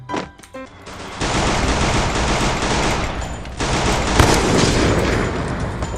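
Gunfire in the mobile battle game Free Fire: after a short quiet start, a loud, sustained burst of rapid shots begins and runs to the end, with a sharp impact partway through.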